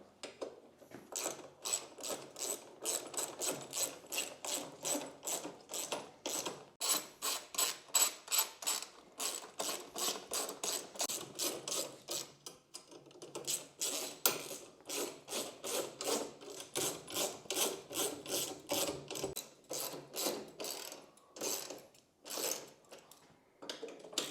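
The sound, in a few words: ratchet tightening pannier rack bolts on Suzuki V-Strom 800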